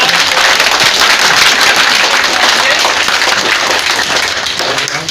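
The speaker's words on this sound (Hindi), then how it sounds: "देखिए इनके लिए जोरदार तालियां हो जाएं।" Loud, dense applause from a village gathering welcoming a prospective candidate, filling the whole stretch as continuous clapping that barely eases toward the end, with voices mixed into the crowd.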